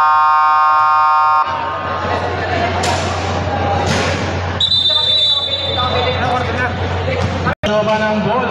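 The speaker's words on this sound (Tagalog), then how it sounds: "Okay, buzzer!" A basketball game buzzer blares loud and sustained for over a second at the start, then gives way to crowd babble, squeaking shoes and a commentator's excited voice at a division league game.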